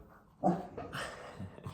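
A female dog lying down gives one loud, close bark, then a few softer whimpers and yips as quiet room noise continues.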